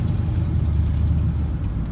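A 1978 Chevrolet C10 pickup truck engine idles steadily with a low, throbbing rumble and a slight exhaust-leak chuff, heard close and continuous with no talking.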